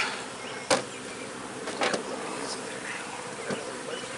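Honeybees buzzing near an open hive during the installation of new bees, a steady insect hum filling the background with a few brief louder knocks and rustles over it.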